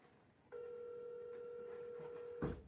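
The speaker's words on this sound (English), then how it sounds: "Pick up the phone, Hollywood." An outgoing phone call ringing back on the line: one steady two-tone ring holds for about two seconds, then breaks off into a short clatter at the end.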